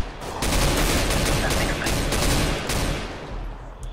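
Sustained gunfire from the video game CS:GO, dense bursts of rapid shots running through most of the stretch, loud and close, then easing off near the end.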